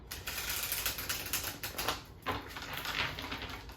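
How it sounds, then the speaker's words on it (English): Quick, dense clicking and riffling of tarot cards being shuffled nearby, a soft papery rattle that keeps going with brief pauses. "So we're going to do one more shuffle and be ready to go for you."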